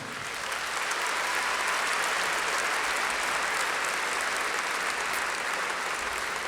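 A large audience applauds for a singer at a music awards show, a dense, steady ovation of many hands clapping close and loud, rising quickly and holding at full strength with no voices over it.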